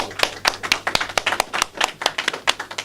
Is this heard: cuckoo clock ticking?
no